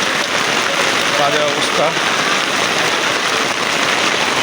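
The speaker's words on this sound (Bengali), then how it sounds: "খুবই বৃষ্টি হচ্ছে, কোনো লোকজন নেই তাও।" Heavy rain pours on an empty city street, a loud, steady wash of drumming water that fills the scene, with someone speaking briefly over it.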